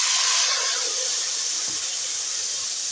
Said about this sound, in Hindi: ये अब थोड़ा सा पानी डालते हैं